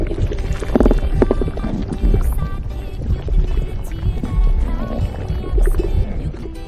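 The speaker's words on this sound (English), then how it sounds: "pushing into my gurgling stomach" A stomach gurgles and sloshes loudly in close, irregular liquid bubbling and rumbling bursts that swell and fade.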